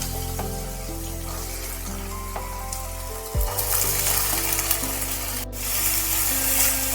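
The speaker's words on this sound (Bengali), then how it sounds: "তেল গরম হয়ে গেছে আমি এবার আলুগুলো এর মধ্যে ছেড়ে দিচ্ছি" Potatoes dropped into hot oil seasoned with whole cumin and asafoetida, frying with a loud steady sizzle that surges and grows brighter partway through, with no talking.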